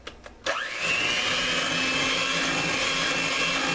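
An electric mixer whirs steadily and close as it blends cream cheese with milk for a no-bake lemonade cheesecake, starting after a few soft clicks and running alone without talk.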